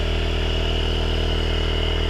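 A motor-generator in a replica Stan Meyer water-fuel cell setup runs steadily, a constant close mechanical hum with a fixed pitch and rapid even pulsing, alone with no talk.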